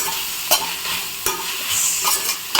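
Chicken noodles with vegetables are stirred in a pan, giving a steady sizzle broken by several sharp scraping knocks of the utensil, close and fairly loud, with no talking.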